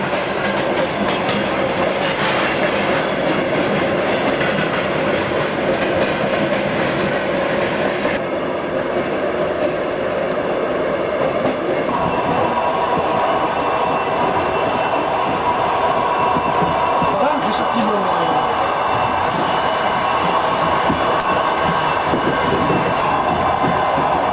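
A train near Moscow rumbles steadily along the track at about 60-70 km/h, with continuous rhythmic clatter and occasional faint squeals, loud and close throughout.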